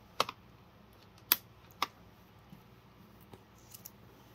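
Brother P-Touch label maker cutting a strip of label tape, heard as a few sharp, close mechanical clicks and snips spaced across a quiet room, with no talk.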